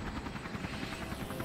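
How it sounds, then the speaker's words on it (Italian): A jet engine roars steadily past in the Resident Evil Revelations video game, a dense, loud rushing drone with no talk over it. "Sì, non è un elicottero, è un jet questo"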